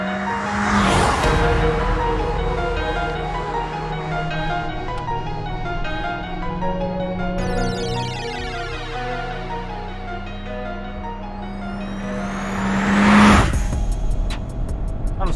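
A Toyota Corolla Cross crossover in sport mode accelerates hard from inside the cabin, engine droning and rising in pitch through the gears, with a surge of louder revving near the end and no talk.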